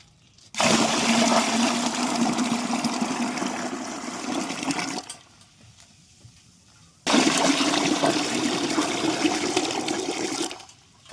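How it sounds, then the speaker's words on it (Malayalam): Water gushes into a bucket holding a plant fertilizer mix in two long, steady pours of about four seconds each, separated by a short quiet gap, with no talk. "ഇതിൻ്റെ ഇരട്ടിക്ക് വെള്ളം നമ്മൾ ഒഴിച്ചു കൊടുക്കുക"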